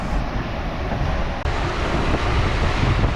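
Strong 20 to 30 knot wind at sea aboard a sailboat on a solo passage, a loud continuous roar and buffeting over rushing water, with a brief dip midway.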